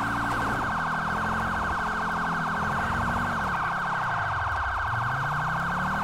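A loud electronic police siren in a video game wails steadily, its tone sweeping and dipping like an emergency vehicle, with a low engine rumble underneath; no voices.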